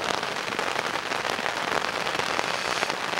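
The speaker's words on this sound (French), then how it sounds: "il pleut maintenant." Rain falls steadily on a summer bushcraft bivouac camp, a dense, even patter and hiss close by, unbroken and alone without voices.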